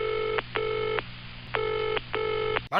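A telephone ringback tone plays four times at a steady even rhythm, each ring about half a second long and close and clear, ending in a brief click as the call connects on a stage set.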